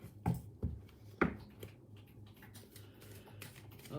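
Deck of cards shuffled indoors: a few sharp, close riffling bursts near the start, followed by softer scattered ticks and shuffling taps.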